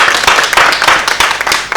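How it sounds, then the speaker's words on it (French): Studio audience applauding the interns during a French talk show, dense steady clapping filling the whole stretch at close range. "je voudrais qu'à la maison on applaudisse encore pour les stagiaires"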